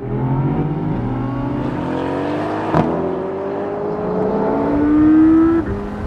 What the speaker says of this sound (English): then we're going to floor the throttles and go